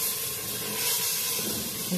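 Black chickpeas fry in a pan of cooked masala, giving off a steady, close hiss and sizzle that holds evenly for the whole stretch, with no talking over it.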